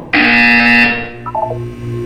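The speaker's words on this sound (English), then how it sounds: "You will hear a buzzer." A loud electronic buzzer from the video game Portal 2 sounds once for nearly a second, a steady harsh tone, then a few short blips and a low hum follow.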